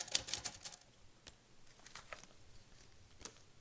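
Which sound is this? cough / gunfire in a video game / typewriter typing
typewriter typing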